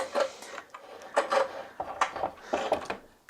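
Clamps are worked loose and lifted off a glued pallet-wood table, with close scraping, rubbing and clunking bursts from metal and wood in an uneven series.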